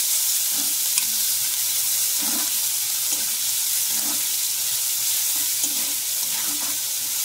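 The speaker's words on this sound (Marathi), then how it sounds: "आता आपण आहे ना कांदा चांगला लालसर होईपर्यंत तेलामध्ये फ्राय करून घ्यायचा।" Onions fry in oil for a Maharashtrian methi bhaji, a steady sizzle with repeated scraping stirs of a spoon in the pan, close and alone without speech.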